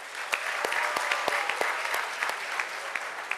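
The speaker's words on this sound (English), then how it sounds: "please give them a round of applause for them" Audience applauding volunteers at the closing ceremony of an MIT India Initiative event, a steady round of clapping from a crowd, dense and moderately loud throughout with no talk over it.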